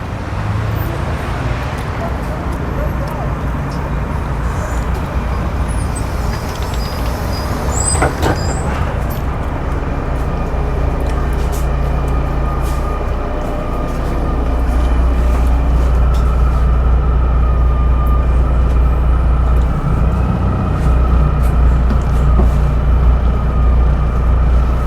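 Interior of a city bus on a rapid route in Bucharest, with a steady loud engine drone and rumble throughout, brief higher hiss or squeal around the middle, and no clear talk.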